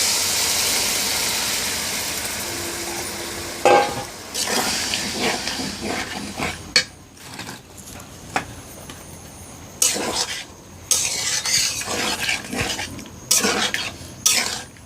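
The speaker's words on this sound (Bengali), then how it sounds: "এখন আমি এর মধ্যে দিয়ে দিচ্ছি সেদ্ধ করা গোস্তগুলো, খাসির গোস্তগুলো।" Boiled mutton pieces going into a pan of fried spice masala and stirred, with a steady hiss under repeated scraping clatters of a spoon against the pot, close and fairly loud.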